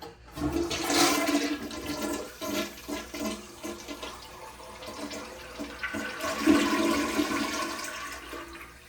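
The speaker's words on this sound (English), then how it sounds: "Slow flush, but it did its job." A slow toilet in a Courtyard by Marriott hotel room in Salisbury, MD flushes with a long rushing gurgle of water that swells, eases off, then surges again toward the end, close by with no talking.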